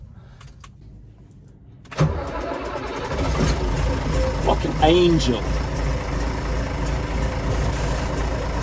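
An MWM six-cylinder diesel engine on farm machinery cranks and catches after sitting idle for six weeks in the cold, then settles into a loud, steady, rumbling idle up close, with a brief voice heard near the start.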